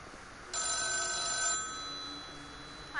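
A telephone rings in the horror game The Town of Light, a steady electronic bell tone that sounds for about a second and then fades into a quiet, humming room.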